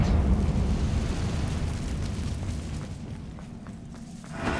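A Confringo fire spell explodes in a Harry Potter-style video game, a sustained low rumbling blast that roars loudly and slowly fades over a few seconds, with a brief swell again at the end.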